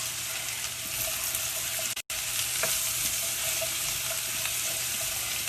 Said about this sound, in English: I'm going to add the garlic and the mushrooms and cook these for a few minutes until they cook down.